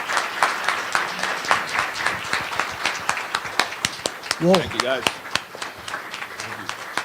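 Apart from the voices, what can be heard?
audience applause for state representative candidates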